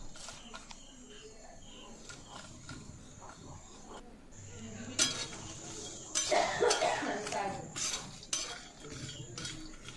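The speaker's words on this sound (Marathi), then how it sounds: "तर असं भाजेल तसं व्यवस्थित हलवून घ्यायचं ते, कारण हे पटकन बी भाजते" Raw cashew seeds roast in a pan over a low flame while being stirred, producing rattling, scraping and clattering bursts close up, with intermittent speech and a cough nearby.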